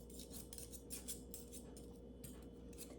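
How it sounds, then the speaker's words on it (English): A fork mixing keto blondie batter in a bowl, making a series of quick, faint metallic scrapes and taps against the sides, close up and without any voices. "now I do want to do a little bit with the fork just to make sure"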